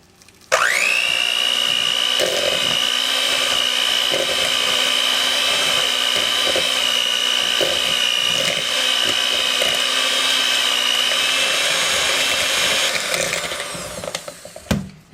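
Electric mixer creaming brown and granulated sugar for banana bread, a loud steady motor whine that starts abruptly, holds evenly with faint beater scraping against the bowl, then winds down and stops.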